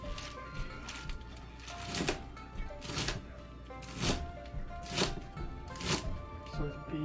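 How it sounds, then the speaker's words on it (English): A knife thinly slices lacinato kale stems on a cutting board, giving a steady series of soft, close chopping taps about once a second, fairly quiet. "So we just try to cut it as thin as possible."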